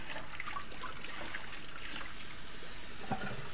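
Juicer part rinsed under a running kitchen tap, a steady, even trickle of water with faint splashes and small knocks of the part against the stream.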